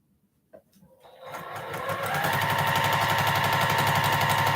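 A home sewing machine starts up after a small click and then runs steadily, stitching in a fast, even rapid-fire rattle that grows louder and holds.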